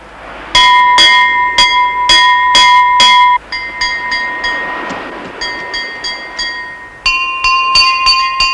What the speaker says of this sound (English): everything halts abruptly for the bell that says another ship is in sight